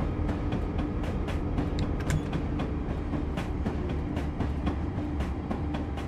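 A Western Pacific freight train of empty boxcars with a heritage-painted locomotive rolls along in Train Simulator 2020, giving a steady rumble with regular clicks from the rails throughout and no talking.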